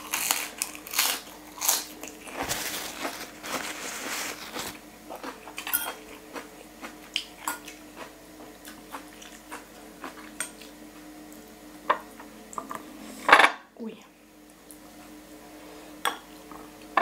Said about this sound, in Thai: สลัดกรอบมากเลย